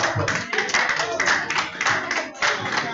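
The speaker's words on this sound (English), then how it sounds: "Let's give a hand of applause." A short burst of clapping from a small group, moderately loud and steady, with voices mixed in underneath.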